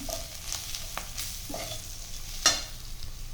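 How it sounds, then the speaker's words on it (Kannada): Spices fried in hot oil for ragi upma, with a soft sizzle under scattered clicks and scrapes of stirring and one sharp knock near the end. "ಇವಾಗ ನಾನು ಎಣ್ಣೆ ಒಳಗಡೆ ಚೆನ್ನಾಗಿ ಫ್ರೈ ಮಾಡ್ತಾಯಿದ್ದೀನಿ"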